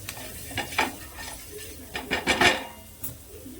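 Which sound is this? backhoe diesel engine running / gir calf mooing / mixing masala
mixing masala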